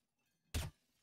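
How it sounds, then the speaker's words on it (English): Glass breaking in the TTT game: one short, sharp crash with a bright shattering edge, fairly faint, alone after near silence. "someone breaking glass"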